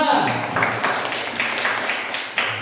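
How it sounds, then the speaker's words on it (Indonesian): Students in an elementary classroom give a short round of scattered hand clapping, several bursts of slaps under a moderately busy room tone. "Tepuk tangan untuk kelompok 2."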